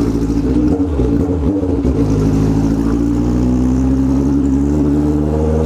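A motorcycle engine labours in fourth gear while climbing a hill, with a loud, steady drone whose pitch dips and then rises gradually as it strains.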